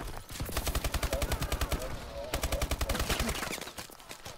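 Gunfire in a squad-based video game shooter, rapid automatic bursts in a fast regular rhythm with a brief gap midway, fairly close and punchy.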